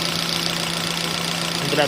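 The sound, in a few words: Chevrolet Cobalt car engine idling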